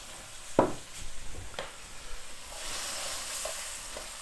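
Langoustines being stirred in teriyaki sauce with a little water in a hot pan: soft scraping strokes over a steady sizzle, with a few sharper utensil knocks early on, close and alone.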